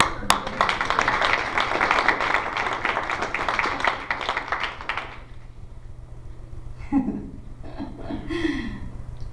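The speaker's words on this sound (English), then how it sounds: "Give yourselves a round of applause." A congregation at a Unity church service claps for about five seconds, a dense ripple of hands that fades out into a quiet room with faint murmurs and shuffling.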